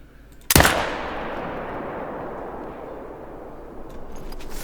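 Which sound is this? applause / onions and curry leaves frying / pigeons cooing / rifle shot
rifle shot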